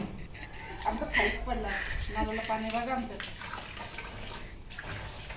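Water pours and splashes steadily into a water tank, a continuous gushing rush, while people talk over it nearby.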